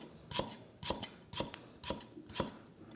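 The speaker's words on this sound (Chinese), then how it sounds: "干净了就可以切片了" A knife slices through peeled ginger on a cutting board, five evenly spaced crisp chops with a quiet, close, solitary sound.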